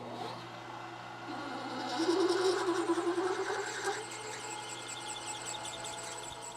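Countersink bit cutting a hole a quarter inch deep in a metal part for a laser seam welder fixture, a squealing cutting tone rising mid-clip over a steady machine hum.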